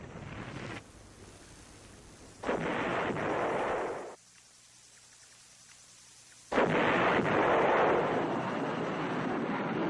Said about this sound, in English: Furious American bombing and artillery fire drove off the assaults.